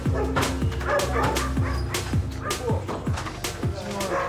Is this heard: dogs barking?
yes